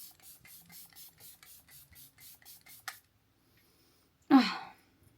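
Two bursts of fine mist hiss from a makeup setting spray bottle close by, after a run of soft, rhythmic rubbing, then quiet.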